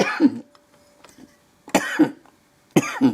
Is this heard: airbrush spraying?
no